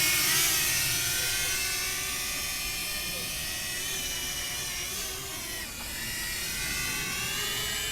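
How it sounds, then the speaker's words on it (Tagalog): A DJI Flip drone flying nearby, its propellers producing a loud, steady high-pitched whine with layered harmonic tones that dip slightly midway, while a voice speaks over it. "Let's go, drone."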